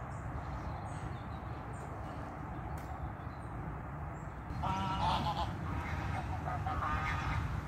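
Geese and ducks honking at a lake in Gujan-Mestras, faint and fairly distant over steady low outdoor rumble, the calls growing busier and more repeated in the second half.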